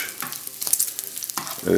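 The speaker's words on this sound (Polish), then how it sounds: "W czasie, gdy boczek tutaj nam ładnie skwierczy" Bacon frying in a pan for scrambled eggs with tomatoes, a close, crackling sizzle with bursts of spatter and stirring scrapes, growing louder at the end.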